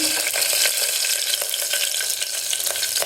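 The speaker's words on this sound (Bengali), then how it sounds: "দিয়ে দিয়েছি গোটা জিরের ফোড়ন, আর দিয়ে দিলাম লঙ্কা ফোড়ন" Whole cumin and chilli tempering in hot oil gives a loud, continuous, crackling sizzle from close by, steady throughout, with no talk.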